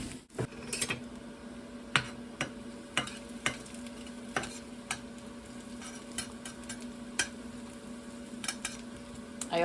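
An air fryer runs in a kitchen as a steady hum beneath sizzling from a pan and scattered clinks and stirring clatter, all fairly quiet.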